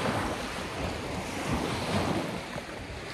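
Lake waves wash steadily against a snow-covered shore in wintry Akita, Japan, under a constant rush of wind buffeting the microphone, with no voices.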